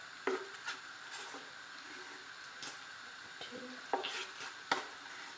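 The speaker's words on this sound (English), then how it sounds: "Just gonna dissolve it in the pineapple juice, no lumps." Stirring cornstarch into pineapple juice to dissolve it, with soft scraping and clinking of a utensil against the container in quiet, irregular strokes, close up and faint.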